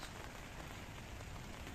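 Steady rain pours down at a riverbank during a day of pike deadbaiting, a dense, even hiss of drops hitting surfaces with no pauses, quiet and continuous.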